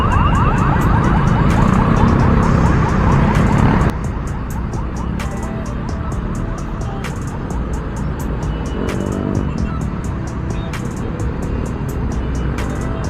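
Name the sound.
road traffic with cars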